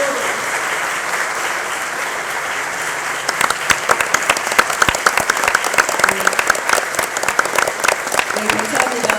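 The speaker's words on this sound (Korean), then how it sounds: "큰 박수 부탁드리겠습니다" A room of Democratic Party of Korea workshop attendees bursts into applause, the clapping swelling from a light patter into dense, steady crowd clapping that carries on to the end.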